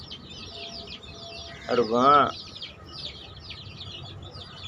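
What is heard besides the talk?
chickens clucking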